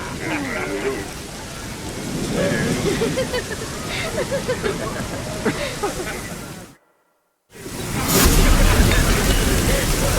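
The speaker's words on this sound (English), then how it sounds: "Looked like it would rain, and here it is." Steady rain falling in The Witcher 3: Hearts of Stone, a dense broadband hiss, loud and continuous under game dialogue and music, cut by a brief silence before returning louder.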